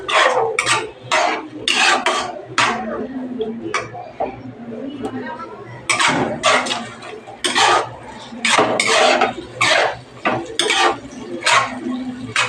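Rajma dal goes into a metal cooking pot amid repeated clinks and scraping of a utensil against the pan, in irregular bursts while a person speaks between them.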